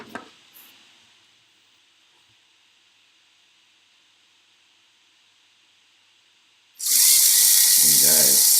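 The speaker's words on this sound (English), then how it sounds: "Let's start up the motor again." A Lego EV3 motor sits nearly silent after a few faint clicks, then abruptly starts up and whirs loudly and steadily at close range for the last couple of seconds.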